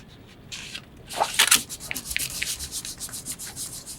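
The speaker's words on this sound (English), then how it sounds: "put my other paper on top to hold it in place" Sheets of paper pressed and rubbed by hand over a glued drinking straw for a paper dragon craft, a close, soft rustling and smoothing that swells after a quiet start and continues in short scuffing strokes.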